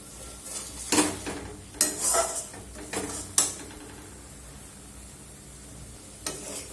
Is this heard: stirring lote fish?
yes